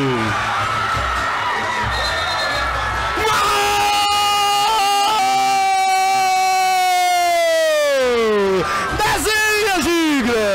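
Crowd at an under-17 youth football match erupts in screams, whoops and cheering after a goal, loud and rising with shrill sustained shouts, following a few seconds of general crowd noise.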